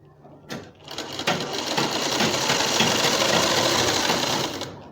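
A sewing machine runs a hem around the curved edge of a dupatta, stitching through single folded cloth; after a brief start it settles into a loud, continuous, close whirring that holds steady to the end.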